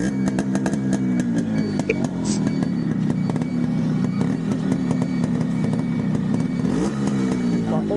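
A 37-year-old restored Yamaha RX100 two-stroke motorcycle starts on a single kick and idles with a loud, close, rapid popping burble, revving briefly, while someone talks over it.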